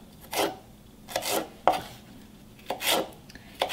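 Thin slices of fresh vegetables cut with a knife for spring rolls, several crisp chopping strokes on a board in uneven rhythm, close and clear with no talk.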